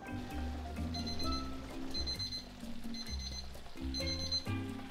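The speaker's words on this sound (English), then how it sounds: "the sound of that timer means we are done simmering" A kitchen timer alarm rings in repeated bursts of bright electronic beeping, steady and rhythmic, quite faint in a quiet kitchen where a sloppy joe mixture simmers.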